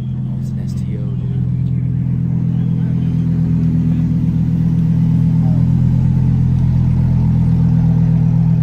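A Lamborghini STO idles at a car meet, its engine giving a deep, steady, loud rumble that swells slightly after the first second and holds for several seconds.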